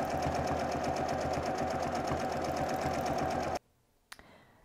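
A sewing machine doing free motion quilting runs in a steady rapid stitching rhythm up close for about three and a half seconds, then stops abruptly, followed by a brief click.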